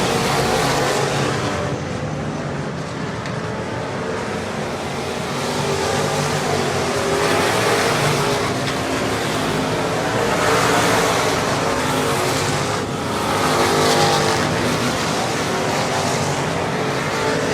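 Race cars roar around the Cotton Bowl Speedway oval on the final laps of a feature, a continuous loud engine drone that swells and fades as packs of cars pass.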